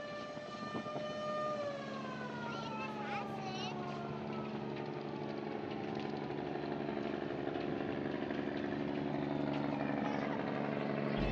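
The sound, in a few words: engine exhaust silencer on roof of passenger launch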